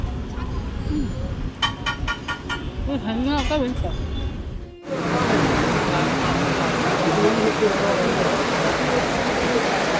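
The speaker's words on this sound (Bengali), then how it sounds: "দুটো পকোড়া খেয়েই ব্যাস মুষলধারে বৃষ্টি" Heavy rain suddenly pours down beside a roadside tea stall, a dense loud hiss that takes over midway after a stretch of voices and passing traffic.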